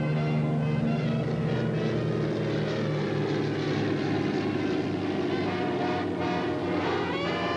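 A heavy propeller airplane in flight, its engine droning in a loud, steady, even tone that holds without a break, with no voices over it.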